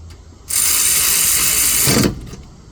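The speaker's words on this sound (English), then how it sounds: "I put in one bolt, start it up, another bolt, start it up, reverse this ratchet." A powered ratchet wrench tightens front brake caliper bolts in a steady mechanical whir that lasts about one and a half seconds and then stops, with no voices.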